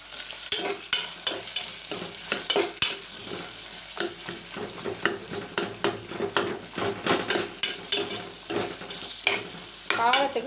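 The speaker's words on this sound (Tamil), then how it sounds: "நல்லா வதக்கிடணும். முந்திரியும் போட்டுக்கணும்." Cashews sautéing in a pan for vegetable pulao: a spoon scrapes and stirs in quick irregular strokes with soft sizzling beneath, close and clear, no talk.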